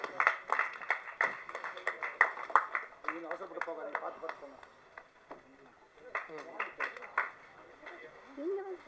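An audience at a ceremony honoring Bharathiraja and Bhagyaraj gives bursts of hand clapping, moderately loud and scattered in waves, while a voice speaks over the applause at a microphone.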